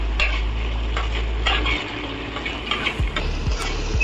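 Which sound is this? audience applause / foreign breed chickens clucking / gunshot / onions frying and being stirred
onions frying and being stirred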